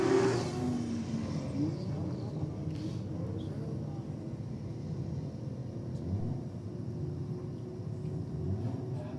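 Drag racing cars launching off the line at a strip, one of them a Toyota Supra, heard as a steady distant engine roar sustained throughout at moderate level.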